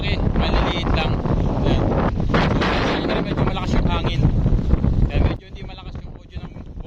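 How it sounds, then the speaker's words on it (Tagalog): Loud, roaring wind buffeting a phone microphone on a bay walk at Calamba during monsoon weather, with a voice talking underneath; the gusting drops off abruptly near the end, leaving quieter rumble. "napakalakas talaga ng hangin. Gamit ko lamang dito yung aking cellphone."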